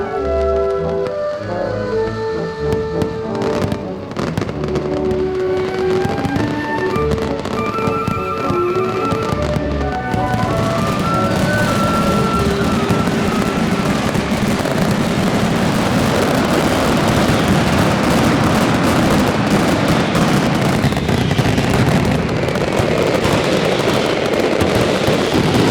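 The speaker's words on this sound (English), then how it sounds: "Fireworks professionals mix color and sound in perfect balance, which beats inside the hearts and immerse Valencia in a cloud of explosive" Fallas festival fireworks in Valencia, Spain: a dense, continuous roar of loud explosions and crackling bursts, with a tonal musical layer at first that gives way to an unbroken wall of blasts.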